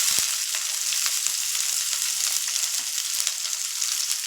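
Onions sizzle in hot oil for chicken varuval, a dense, continuous crackling fry hiss with small pops, close and fairly loud, no talking.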